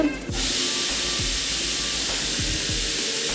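A steady, loud hiss of tea with crushed cardamom boiling in a pot fills the clip, with low bubbling pops and a few brief clicks underneath.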